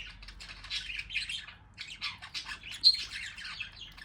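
Several roosting budgies squawk and chirp in overlapping bursts of high chatter, fairly faint with a quiet low background and no speech.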